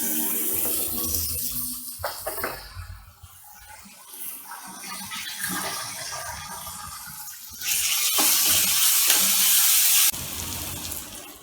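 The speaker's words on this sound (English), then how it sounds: "And saute this well with little bit of salt." Onions and small green chilies sizzle with salt in a pan for mutton rolls, a steady hissing sauté with faint stirring scrapes, growing louder and brighter near the end.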